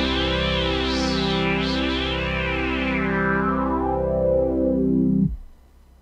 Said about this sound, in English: Now the other knob is resonance, so I'm gonna turn that up. And you can hear those high frequencies kind of popping out.